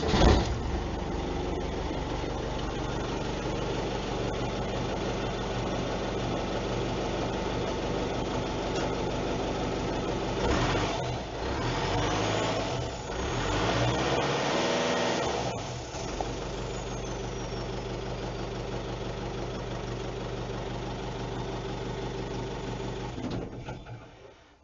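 A VW T3 van's 1.9 TDI diesel, fitted with a Bosch VE pump, idles steadily and close by after a start with no exhaust fitted, a continuous even rumble that wavers briefly midway.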